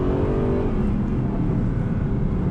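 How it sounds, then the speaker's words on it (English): A V8 sports car engine revs hard on a race track, a loud, steady, close roar with no talking over it. "How do you like the sound of that V8?"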